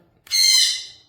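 A single bird call rings out loud and close, one drawn-out, high, bright cry that rises sharply and fades over about a second in a quiet room.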